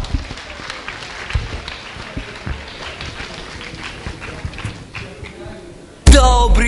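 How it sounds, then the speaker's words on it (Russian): Audience applause at a KVN comedy contest in a city hall as a team takes the stage: a steady, dense clatter of clapping with some thumps, then a sudden loud burst at the end. "Чифран Хикс, под ваши бурные аплодисменты."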